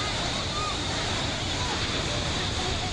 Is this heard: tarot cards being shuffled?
no